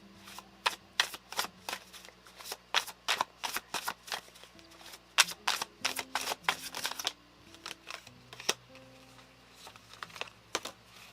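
Tarot cards shuffled for a reading, a long series of crisp, close card snaps and riffles in quick irregular bursts with a short pause midway, and no talk over them.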